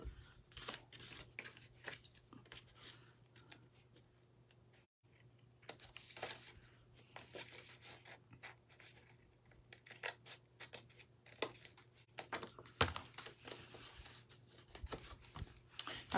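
Small scissors snip quietly through decoupage paper in a string of soft, irregular cuts, close but faint against a low steady hum, with no talking.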